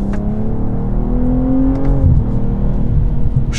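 A 2021 BMW M240i accelerating hard, its engine note rising steadily in pitch as revs climb, then dropping briefly at a gear change before pulling again, heard steadily from inside the car with no talk.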